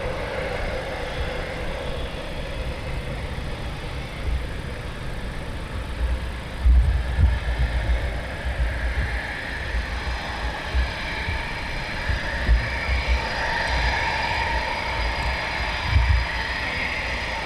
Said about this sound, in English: you've got a pretty good load of aircraft tonight taxiing out and departing here RAF Coningsby